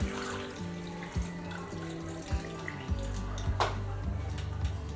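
About 1.5 litres of water pours steadily into a cooking pot, splashing and gurgling continuously with a few sharper splashes along the way.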